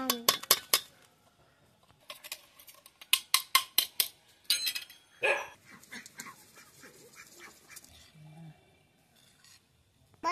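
A spoon stirs jaljeera spice powder in a pan with sharp, close scraping clicks. These come in quick bursts and irregular clusters, with quieter gaps in between.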